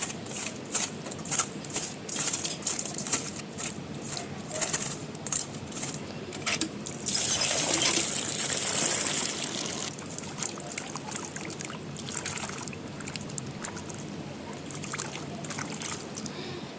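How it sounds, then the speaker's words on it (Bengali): Catfish being scrubbed with salt and rinsed in water in a kitchen, a steady close wet rubbing and sloshing with brief trickles and a louder pour of water partway through, without talk. "তো দেখো, আমি এখানে লবণ দিয়ে আরেকটু ভালো করে কষলে ধুয়ে নেব।"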